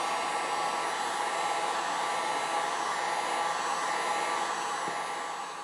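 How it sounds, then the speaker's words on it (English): Heat gun warming a pistol slide and barrel, a steady, loud, continuous blowing hiss and whine that holds evenly throughout with no speech. "I'm heating it up with this heat gun."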